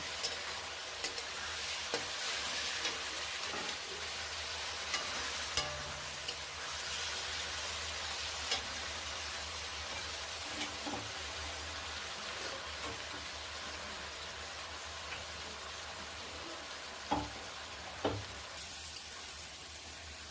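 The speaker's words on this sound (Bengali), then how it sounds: "পেস্টটাকে ভালো করে নাড়াচাড়া করে যতক্ষণ না একটু তেল ছাড়া ছাড়া হয় ততক্ষণ একটু একটু করে নেড়ে দেব।" Spice paste frying in oil for a chicken curry, a steady soft sizzle running throughout, close but low in level, with a few faint knocks of the stirring spoon against the pan and no talk.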